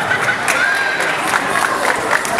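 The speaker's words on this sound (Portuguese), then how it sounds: "Salva de palmas aí, galera." A packed crowd at a fight event roars with cheers, shouts and clapping, a dense, loud and steady wall of noise with whistle-like cries rising above it throughout.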